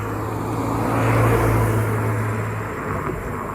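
An Alpina B3 BMW 3 Series touring accelerates, its engine a steady low droning hum that swells in the middle and eases off, heard from inside the car over a broad rush of road and wind noise.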